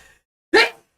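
A single sharp human sneeze, close and loud, bursting out after a brief moment of quiet.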